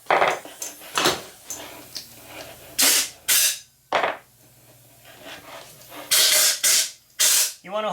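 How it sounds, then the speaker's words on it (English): Compressed air hose with a small spout blowing resin blanks out of a silicone mold, repeated loud hissing blasts in short bursts of about half a second to a second, separated by quiet pauses with a low hum. "what I do is I take my air hose and I put a little spout on it"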